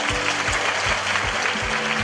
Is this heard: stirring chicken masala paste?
no